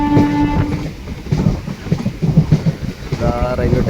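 A train runs near a railway station in Kerala early in the morning, with a steady rumble and clatter throughout and a sustained horn-like tone at the start and again near the end.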